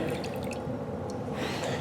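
Liquid poured into a graduated cylinder during a chemistry lab, a continuous close trickle and splash that brightens near the end, with no talk.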